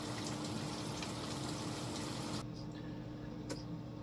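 Shower water running steadily in a home shower, a dense continuous hiss and spray that abruptly thins partway through, as if the stream is shifted or blocked.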